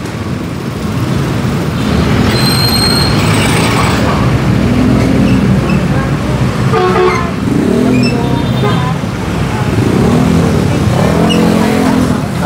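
Busy street traffic at an illegal tricycle terminal in Tramo, Pasay City, with steady engine rumble, passing vehicles and several short horn toots, continuous and fairly loud.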